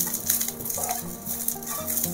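Mint leaves frying and being stirred in a pan for pudina podi, a steady soft sizzle with repeated rhythmic scraping strokes of a spoon against the pan, no voices.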